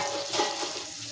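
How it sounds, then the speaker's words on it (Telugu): Water splashed into a frying pan of dried fish and cucumber pieces, giving a brief hissing sizzle and bubbling that settles into soft frying, close and alone. "నేను కొంచెం వాటర్ వేస్తున్నాను, ఎందుకంటే ఈ చేప ముక్కను అలాగే దోసకాయ ముక్క కూడా ఉడకాలి కదండి."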